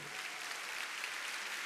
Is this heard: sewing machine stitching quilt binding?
no